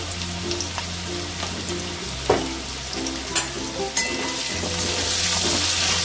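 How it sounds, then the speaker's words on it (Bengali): Potatoes seasoned with salt and turmeric fry in a pan with a continuous bubbling sizzle, a low steady hum underneath, and several sharp clinks of stirring partway through. "এদিকে আলু ভাজা হোক"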